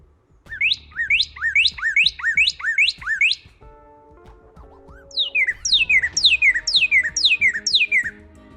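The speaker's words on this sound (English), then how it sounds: "We find out when we do that these are northern cardinals." Northern cardinals singing clear, downward-slurred whistles repeated in rapid series, two bursts of song separated by a brief pause with faint background noise.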